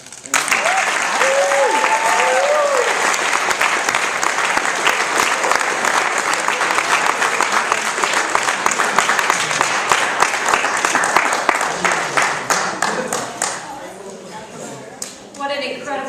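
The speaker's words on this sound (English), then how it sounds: "Let's clap one more time for all of you." Audience at a high school showcase applauding after a performance, loud and sustained clapping with occasional cheers and voices, dying down to scattered claps near the end.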